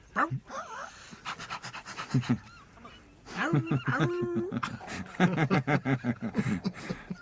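A person imitates a dog panting in a film, giving rapid rhythmic huffing breaths in long runs, loud and close, broken by short pauses.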